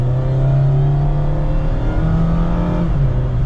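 A 2024 Mazda MX-5 Miata RF Grand Touring cruising, its engine droning loud and steady from inside the cabin with a slight pitch change partway through.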